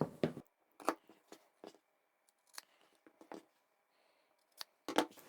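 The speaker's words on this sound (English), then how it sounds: "I'll trim that close to the corner." Scissors snip fabric close to the corners of a sewn crossbody bag, several short crisp cuts in irregular bursts with quiet gaps, near and clear.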